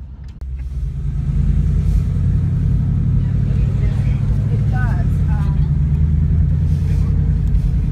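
A Ford Mustang GT California Special drives, its engine rumbling low and steady from inside the car as it pulls away and settles into a strong drone, with people talking over it.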